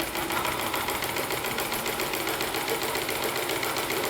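A sewing machine fitted with a small 12-watt motor runs empty without thread, giving a steady, loud, continuous mechanical whirr with a fast rattling pulse throughout.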